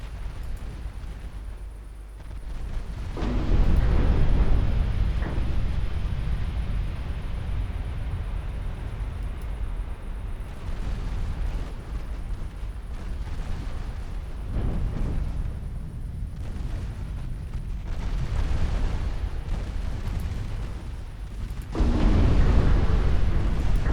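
Three-inch naval guns pound unarmored transports in Ultimate Admiral Dreadnoughts: loud, continuous booming and bursting explosions rolling over one another, swelling around a few moments and then easing back, with no talking.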